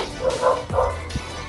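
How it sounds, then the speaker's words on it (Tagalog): Several dogs bark and yip in quick bursts at a moderate distance, with a short whimpering note near the end. "ingay ng mga aso"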